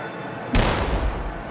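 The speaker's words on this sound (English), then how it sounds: "the crew's ready to take their first shot" A U.S. Navy warship's weapon fires a single shot: one sudden loud boom that rolls into a sustained rumbling wash before slowly fading, with no voices over it.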